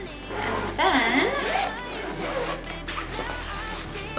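Zipper on a gray-lined bag with many compartments being pulled open, a steady rasping slide with faint rustling running through the moment, no talking over it.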